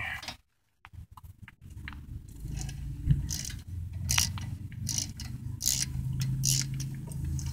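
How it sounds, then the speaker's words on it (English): A 13mm wrench ratchets brake caliper bolts tight on a Dodge Grand Caravan, with repeated close metallic clicks and clunks over a low background hum after a brief silence. "take your 13mm and go ahead and get these tightened back off"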